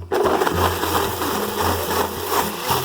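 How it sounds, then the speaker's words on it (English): A kitchen blender whirs steadily as it blends hot peppers for Lao food, a loud continuous motor drone with slight pitch shifts as it runs, heard alone without talk. "Drop to the blender and start it."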